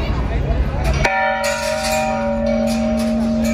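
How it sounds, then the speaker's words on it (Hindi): A large bell at the entrance of the Khatu Shyam temple in Delhi is struck once, close and loud, leaving a long ringing tone that sustains under crowd murmur and outdoor bustle. "यहाँ पे घंटा देख सकते हैं"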